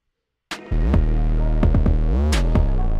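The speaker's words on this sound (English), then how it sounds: "now I can add some distortion to it. I'll just use Camel Crusher." A trap beat's deep bass runs through Camel Crusher distortion, giving gritty, buzzing low notes with sharp punchy hits and a sliding pitch bend, loud and up front.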